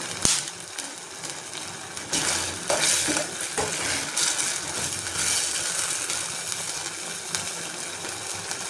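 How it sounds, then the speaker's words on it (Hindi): Chicken pieces for macaroni sizzle steadily in a pan over a medium flame, with occasional spoon stirs and clinks against the pan, close and continuous, with no talk. "अब 2 मिनट तक इनको कुक करना है, ज़्यादा ओवर कुकिंग नहीं करना और मीडियम फ्लेम पर इसको पकाना है।"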